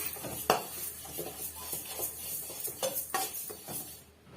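Moong dal is dry-roasted in a pan and stirred constantly with a metal spoon, producing repeated scraping and clinking strokes over a faint crackle, close and moderately loud, with no voices.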